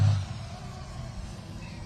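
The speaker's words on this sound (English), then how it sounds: "We'll let the loud truck go by." A loud truck rolls past an outdoor news conference about a road project, a low engine rumble that is strongest at the start and then holds as a steady drone.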